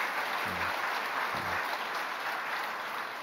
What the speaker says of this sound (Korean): 우리 박수 한번 다시 하십시다.